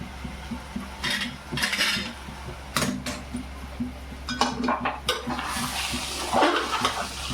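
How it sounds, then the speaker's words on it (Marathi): A lid comes off a cooking pot of khurasani wild greens with several sharp metallic clanks and scrapes, close and fairly loud, among faint kitchen clatter. "चला तर आपण झाकण काढून बघू आपली भाजी"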